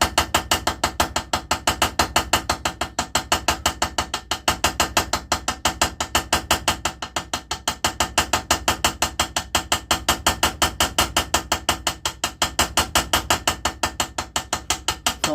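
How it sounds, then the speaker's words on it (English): A hammer peens the pins of a slip joint knife with fast, steady metallic taps, loud and close, continuing without pause and with no talking. "And then peen the other side."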